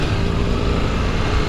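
A Yamaha XJ6 motorcycle engine hums steadily at close range while being ridden, a brief continuous drone with no speech over it.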